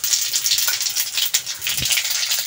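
Dried red chillies, bay leaf and whole spices fry in hot oil, giving a continuous bright crackling sizzle with small pops throughout.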